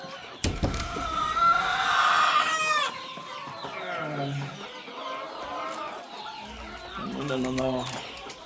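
Boschveld chickens cluck inside a chicken house, with a drawn-out crow early on and repeated nearby clucks afterward, as a person talks intermittently.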